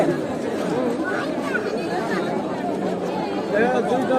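Dense crowd chatter at the Lalbagh garden ticket counter on Independence Day, many overlapping voices forming a steady, close babble throughout with no clear single speaker standing out.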